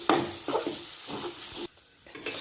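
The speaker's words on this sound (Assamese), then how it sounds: "মই অলপমান ভালদৰে লৰাই দিম।" A spoon stirs boiled potatoes with salt in a hot frying pan while egg curry with taro root is cooked, giving a few close scraping strokes over a soft sizzle, then a short quiet pause before stirring resumes.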